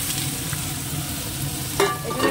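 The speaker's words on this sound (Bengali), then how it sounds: "এবার এটা একটু ভালো করে ভেজে নেব" Pointed gourd sizzles in hot oil in a pan with garlic and green chilli, a steady close frying hiss with a few stirring scrapes near the end and no talking.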